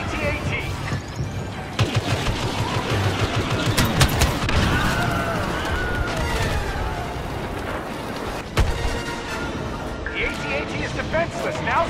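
Blaster fire pours onto an AT-AT walker in the Star Wars Battlefront video game, rapid overlapping energy-weapon bursts and booming impacts at a steady roar for about twelve seconds, with a voice heard over the battle.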